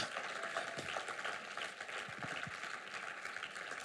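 A church congregation applauding and cheering during a sermon, a steady wash of clapping at moderate distance, with faint voices mixed in.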